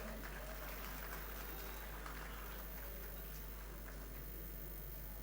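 Steady applause fills a hall at a university convocation, an even patter of many hands clapping at moderate distance that carries without a break from start to end.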